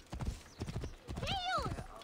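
Horse hooves clip-clop in a quick trotting rhythm in the video game Assassin's Creed Origins, then a horse gives a loud wavering neigh, with no talking.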